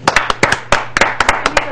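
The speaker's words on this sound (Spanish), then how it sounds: "Un aplauso." A small group of people clapping close by, a quick uneven run of loud sharp claps with a low hum underneath.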